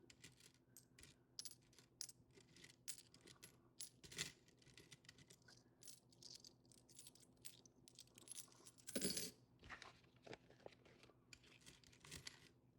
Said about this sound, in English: need to break a bill from my coin jar